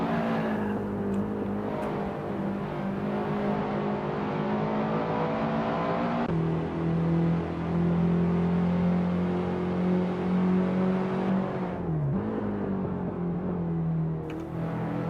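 Race car engines howling around Laguna Seca in a racing video game, several cars battling closely with sustained high revs, gear-change dips and brief tire squeal, loud and continuous with no talk.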